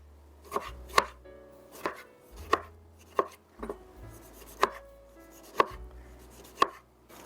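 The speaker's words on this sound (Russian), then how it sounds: "Средними кубиками режу помидоры." A kitchen knife chops tomatoes into medium cubes on a cutting board, about a dozen sharp, close taps at an irregular steady rhythm with quiet pauses between them.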